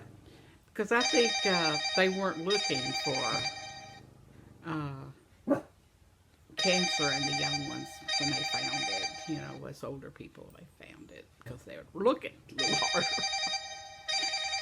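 Telephone ringing indoors, with bursts of electronic trilling rings separated by pauses and someone talking between and over them.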